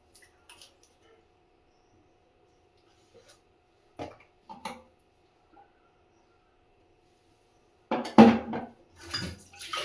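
Dishes and pots being washed in a home kitchen, sparse clinks and scrapes of metal and crockery with quiet gaps between them, then a louder clatter and rattling near the end, no talking.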